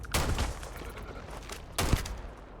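Two heavy gunshot bursts from a video game weapon, one early and one later, each a sharp close blast with rumbling low end over a quiet hiss of background noise.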